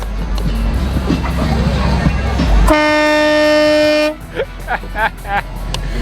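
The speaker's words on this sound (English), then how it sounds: "It actually has a train horn on it. Let me jump up real quick and I'll honk it for you." A train horn mounted on an old Ford truck blasts one long, loud, steady chord for over a second, then cuts off, leaving outdoor crowd chatter at a truck show.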